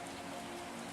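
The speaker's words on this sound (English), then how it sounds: "The rain is still falling" Gentle rain falls softly and steadily on stone, a faint, even hiss with a slight echo and no other sounds.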